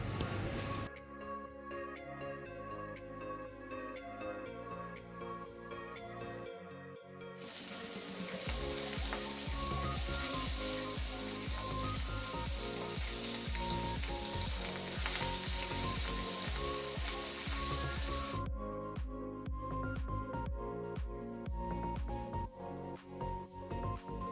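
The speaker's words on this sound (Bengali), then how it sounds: "মাছগুলো যে মেখে রেখেছিলাম নুন হলুদ দিয়ে সেই মাছগুলো আমি সবগুলো এক এক করে ভেজে নেব" Pangas fish pieces rubbed with salt and turmeric fry in hot mustard oil. The loud, steady sizzle swells sharply as the pieces go in and then settles back down, with no talking over it.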